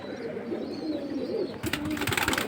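Pigeons coo steadily at a busy pigeon market, soft low calls close by over a constant murmur of crowd noise, with a brighter clattering burst joining in during the last second.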